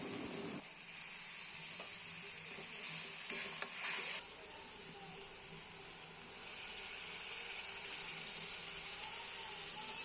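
Spice paste sautéing in a pan gives a steady close sizzle throughout, with a brief louder burst of stirring partway through and no voices.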